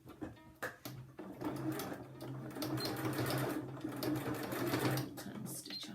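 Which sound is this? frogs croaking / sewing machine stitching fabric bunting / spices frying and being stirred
sewing machine stitching fabric bunting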